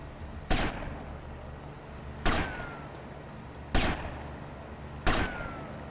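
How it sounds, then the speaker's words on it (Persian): Four sharp gunshots from GTA Vice City ring out at uneven intervals, each a loud crack with a short tail, over a steady low hum of game background noise. "باز کجا داره شلیک میکنم؟"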